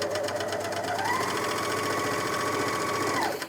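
Janome 9300DX overlocker stitching and trimming cotton fabric with its side cutter engaged, a steady close whirring hum that rises in pitch as it speeds up, then stops abruptly at the end.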